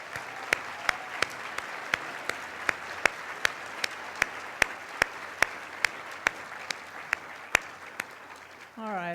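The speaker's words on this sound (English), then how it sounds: "Can we please give them a round of applause and thanks?" An audience at a health professions college white coat ceremony gives sustained applause with a steady dense clapping, punctuated by sharp regular clicks, fading out as a voice begins at the end.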